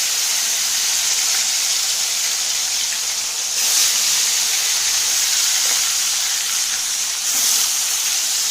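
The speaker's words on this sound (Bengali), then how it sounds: "এখন এত বেলা আর কি করব, তাই মাছটা ভেজে দিই।" Fish fries in hot oil with a loud, steady hiss and sizzle that holds throughout, swelling briefly twice.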